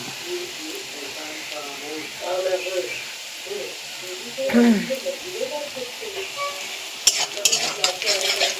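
Cinnamon and cardamom fried in hot oil, a steady sizzle running throughout with stirring and utensil clinks, while a voice talks over it and a sharper clatter comes near the end.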